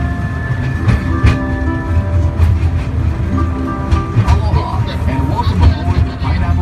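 A tourist train rolls through a working pineapple plantation with steady rumbling and faint rhythmic clatter, while people talk nearby and a few tonal squeals ring out.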